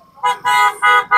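A tricycle horn sounds loud and close in four quick toots, each a bright buzzy blast with short gaps between, heard alone with no talking.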